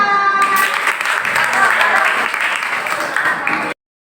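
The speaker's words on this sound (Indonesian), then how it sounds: "Tepuk tangan buat Sima" Applause in a Quran studies classroom for a pupil, brisk clapping from a group of children, close and fairly loud, cutting off abruptly near the end.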